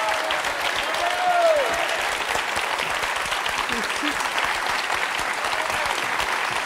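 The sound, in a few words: studio audience applauding game show contestant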